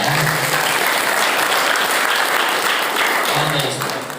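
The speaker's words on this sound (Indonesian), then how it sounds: "Tepuk tangan buat bagian ini ya." Loud, continuous applause from an audience at a motivational event at an Islamic boarding school in Karawang, with a faint low hum underneath and a slight fade at the end.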